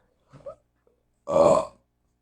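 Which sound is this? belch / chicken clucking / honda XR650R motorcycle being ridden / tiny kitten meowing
belch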